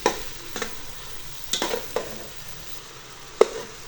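Chopped onions frying in ghee for beef korma, a soft steady sizzle broken by a few sharp utensil clinks and scrapes against the pan.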